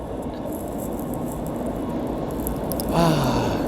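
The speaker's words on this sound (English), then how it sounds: "Here comes the train." A train passes nearby under steady low rumble, its rolling noise swelling toward the end as a rising horn-like tone sweeps through near the close.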